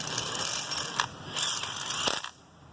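An impact gun runs bolts down on an 88-98 Chevy OBS truck tow mirror in rapid ratcheting bursts, fairly close and loud, then stops abruptly.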